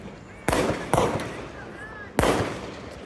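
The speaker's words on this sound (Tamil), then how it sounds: "சரவடி வைக்கிறாங்களாம்மா" Firecrackers bursting at a roadside birthday celebration, three sharp loud bangs with crackling decay, heard near and with faint voices around.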